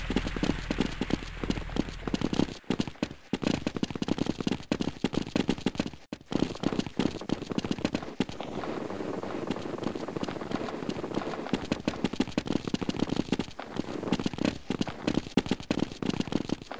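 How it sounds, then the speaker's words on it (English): Counter-Strike 1.6 gunfire: fast, crackling volleys of shots in quick succession, sharp and dense, with brief pauses between bursts and faint background game noise. "Returning fire."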